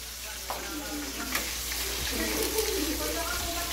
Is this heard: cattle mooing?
no